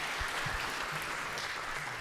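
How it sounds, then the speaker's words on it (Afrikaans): A church congregation at a morning service claps for singers, a steady, fairly soft wash of many hands filling the room, with low thumps and faint murmuring beneath. "Ek dink ons kan vir hulle lekker hande klap gee."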